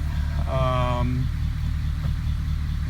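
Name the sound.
1953 Pontiac Chieftain engine idling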